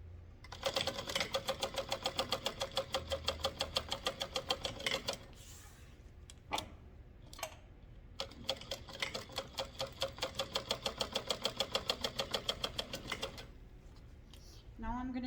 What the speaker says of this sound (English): we're going to sew them down at a 1/4 inch seam allowance.